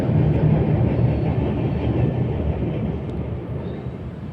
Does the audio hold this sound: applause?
no